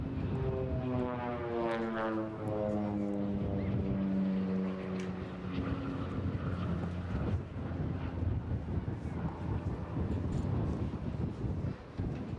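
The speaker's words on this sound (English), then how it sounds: "Menacing looking aircraft," A menacing-looking military aircraft flies past at the Eastbourne International Airshow 2024, a loud, sustained roar with a strongly falling pitch sweep as it passes close by, followed by a rumbling, windy fade.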